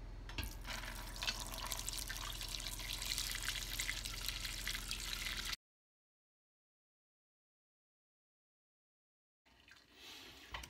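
Liquid beer mash poured into cheesecloth for a one-gallon homebrew batch, a steady loud splashing pour that cuts off abruptly, then silence before a faint return of watery sound.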